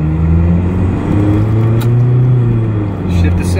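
A Toyota MR2 SW20 pulls away from a stop in first gear, its engine giving a low, loud rumble that rises and swells over a few seconds, heard up close.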